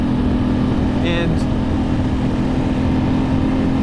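A 2008 Ducati S2R1000 Monster with a dry clutch gives a steady engine drone and hum under constant wind rush while riding. A voice speaks briefly over it.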